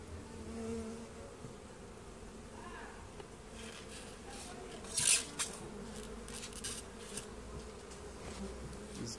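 Honey bees buzzing around an open homemade beehive, a faint continuous hum with a few louder passes near the microphone, while a person talks quietly in the background.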